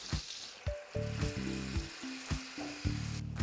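Tomatoes hit a hot skillet with sharp bursts of sizzling while a bright, stepping musical tone plays underneath.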